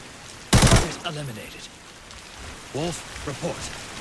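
A sharp burst of gunfire in the mobile shooter game Arena Breakout opens, followed by quieter clicks and brief voice-like sounds in the background.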